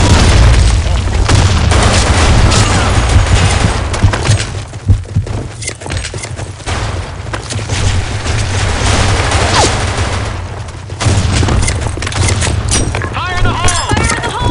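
Grenade explosions in the shooter game Blackshot boom repeatedly over a dense, continuous bed of gunfire and battle noise, with loud deep blasts recurring throughout and voices shouting game callouts.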